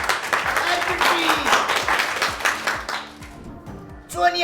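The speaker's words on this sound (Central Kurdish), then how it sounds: "یەک چەپڵەی بێز بۆ هاوڕێمان هەر بژی" A class of schoolchildren applauds a classmate in a classroom, a steady patter of clapping that tapers off toward the end, with voices mixed in.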